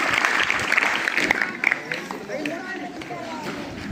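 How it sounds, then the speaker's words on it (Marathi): A school audience claps loudly to welcome a student wrestler onto the stage, steady dense applause throughout with some voices and crowd movement mixed in. "जोरात टाळ्या वाजवून पैलवानाचं या स्वागत करायचं आहे"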